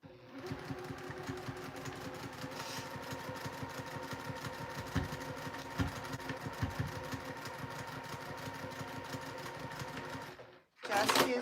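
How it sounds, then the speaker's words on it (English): Sewing machine stitching a quarter-inch seam and back stitch over leather: rapid, steady mechanical needle chatter running continuously for about ten seconds, then a brief pause and a short burst. "I'm just going to stitch right across the top using a 1/4 inch seam allowance"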